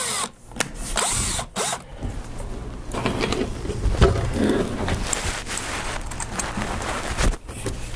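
Power drill driving small 3/4-inch flathead wood screws: several short, close whirring bursts separated by brief pauses, each run ending abruptly as the screw seats.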